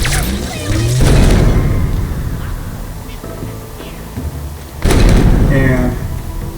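A fire grenade detonates in Halo Infinite during a mission fight, with two loud booming blasts a few seconds apart that trail off into rumbling noise.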